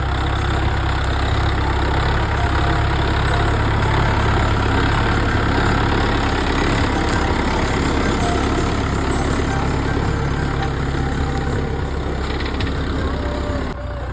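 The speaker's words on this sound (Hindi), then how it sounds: "आ गए हमारे ट्रैक्टर के पास।" A farm tractor's engine idles steadily and loudly for the whole stretch, a constant low rumble close by with no talk over it.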